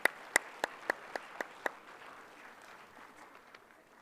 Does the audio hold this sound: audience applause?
yes